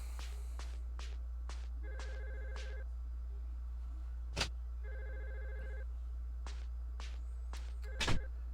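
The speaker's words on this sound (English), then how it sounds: "The phone was ringing." A telephone rings in the PS1 horror game Clock Tower 2, giving repeated short electronic trills in pairs over a low steady hum. Sharp clicks and knocks from the game mark the pauses between rings.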